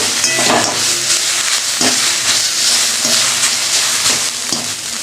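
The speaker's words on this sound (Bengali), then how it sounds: "দেখো ফুলটা আমার ভাজা হয়ে গেছে।" Drumstick flowers fry loudly in a pan with a dense, continuous sizzle, and a few evenly spaced stirring scrapes rise above it at close range.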